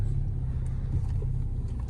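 A used car bought cheaply to flip in New Zealand pulls away with a steady low engine rumble and road noise from inside the cabin, a brief high hiss at the very end.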